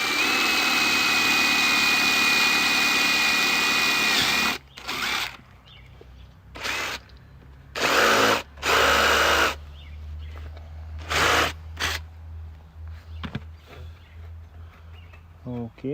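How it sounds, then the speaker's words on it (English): A drill whines steadily for several seconds while countersinking a screw into a Trex composite sample board, then fires in several short bursts separated by pauses, close and loud. "let's try it first on a sample just to see that it's not faulty and it's countersinking it."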